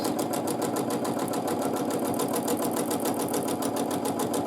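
A sewing machine stitches free-motion quilted feather plumes, its needle chattering in a fast, even rhythm that runs steadily and close throughout with no pauses.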